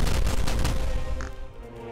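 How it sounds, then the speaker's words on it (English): Heavy booming cannon fire from pirate ships in the video game Ancient Warfare 2, a dense, overlapping volley, loud and close, with the rumble fading out toward the end. "Come on, fire the cannons. Fire the cannons."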